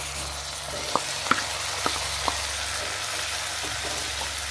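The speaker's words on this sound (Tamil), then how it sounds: "தக்காளியை போட்டு நல்லா கொஞ்சம் வந்து பார்த்திங்கன்னா வதக்கி விட்டுலாம்" Chopped tomatoes sautéing in a pan for a Madurai-style chicken kuzhambu, a steady low sizzle with a few faint clicks of stirring, close and continuous with no voices.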